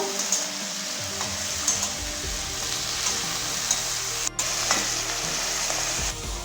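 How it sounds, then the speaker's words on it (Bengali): Small cut eggplant pieces frying in oil with crushed garlic and whole green chillies, a continuous close sizzle with a low rumble beneath and occasional stirring scrapes, one brief dropout midway. "বেগুনটাকে আমরা লাল লাল করে ভেজে নেব"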